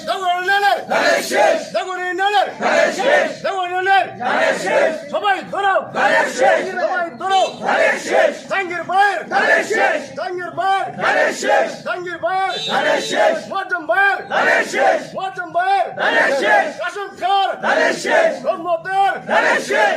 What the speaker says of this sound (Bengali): দর্শক তারা ধানের শীষ মার্কা স্লোগান দিচ্ছে